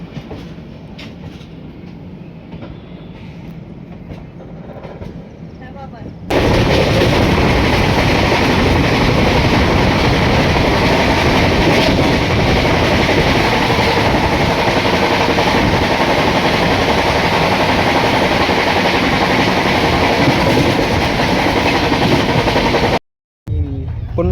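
The Sealdah SF Express runs at speed after leaving Asansol, a loud, steady roar of wheels and rattling carriages that swells sharply after a quieter opening and holds for the rest, cutting off briefly near the end.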